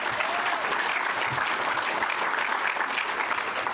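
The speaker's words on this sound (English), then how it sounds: "Round of applause." Steady applause from an audience at an accelerator showcase event in a hotel, dense and continuous clapping that fills the room at an even level throughout, with no speech over it.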